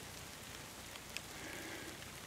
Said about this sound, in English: And this rain could stop anytime if it wanted.